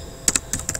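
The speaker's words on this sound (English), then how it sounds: "You could start typing it in the find box here" Keys clack on a computer keyboard in a brief burst of four quick, crisp taps, close up in a quiet room.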